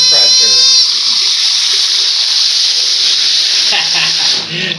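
Bidet sprayer (bum gun) in a bathroom near Khao San Road blasting a steady, loud, high-pressure jet of water, a continuous hissing spray that carries on through the whole stretch.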